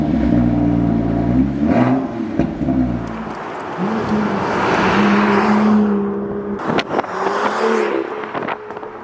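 BMW M2 engine rumbling through its quad exhaust, revving loudly with rising and falling harmonics, a deep burbling idle, then sharp throttle blips and crackles near the end, close and loud with no talking.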